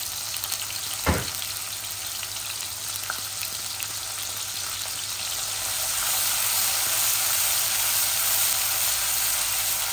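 Frozen garlic sizzles in hot oil for leafy greens, a steady close frying hiss with a brief spoon clatter early on, the sizzle swelling louder in the second half, no talking.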